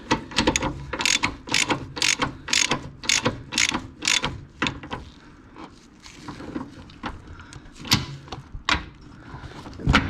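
Ratchet tightening rear coilover bolts on an Autozam AZ-1, a close run of rapid sharp clicking strokes in uneven bursts, pausing midway and then resuming, with no talk.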